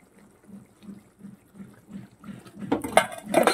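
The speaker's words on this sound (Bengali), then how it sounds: "সামান্য জল দিয়ে দিচ্ছি" Water poured into a pan of simmering fish curry, starting as soft bubbling pulses and swelling into a louder, close splashing pour near the end.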